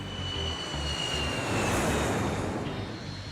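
An airplane coming in to land at Princess Juliana airport in St. Martin roars overhead, a loud, broad engine rush with a whining tone that swells at its peak and then eases slightly.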